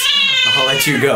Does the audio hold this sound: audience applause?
no